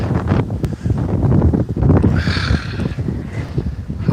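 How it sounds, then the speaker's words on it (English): Strong outdoor wind buffets the microphone in a steady, loud low rumble with gusty swells throughout, no talking. "Holy cow, it is windy out here."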